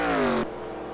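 Race car in a stock-car racing video game pulling away from pit road: a loud, steady engine drone that slides slightly downward in pitch, then abruptly cuts away to a quieter background hum.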